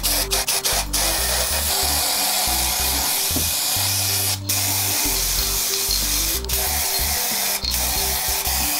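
Aerosol paint can spraying, a loud close hiss that runs almost continuously, with brief stops and bursts and some rattling clicks mixed in, and no talking.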